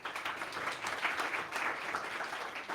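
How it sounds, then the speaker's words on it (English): An audience at a startup pitch competition gives faint, steady applause, a soft wash of many hands clapping at a distance. "Big applause for him."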